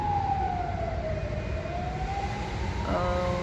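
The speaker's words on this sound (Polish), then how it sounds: "coś jedzie jakaś karetka" An ambulance siren wails in Greece, its tone sliding slowly down and back up as it passes at a moderate distance over steady traffic rumble.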